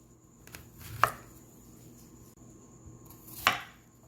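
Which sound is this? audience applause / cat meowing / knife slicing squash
knife slicing squash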